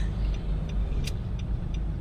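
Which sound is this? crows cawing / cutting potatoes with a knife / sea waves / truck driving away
truck driving away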